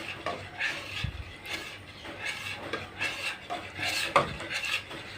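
Biko rice cake, a sticky glutinous rice dish, stirred continuously in a pot, producing repeated close scraping and rasping strokes against the pot at a steady working pace, with no talking.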